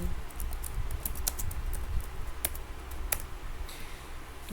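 A command is typed on a computer keyboard during a software setup, in rapid, close clicky keystrokes with a few louder key hits over a faint background hum.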